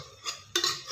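A spoon stirs cooked green gram with dill in a pot, giving two short metallic clinks and scrapes about a quarter second apart, close and quiet with no talk.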